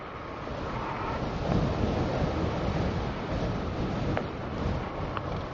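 Steady, loud wind roar buffets a vented bicycle helmet while riding at speed, a dense broadband rush that swells and eases without pause and fills the whole stretch.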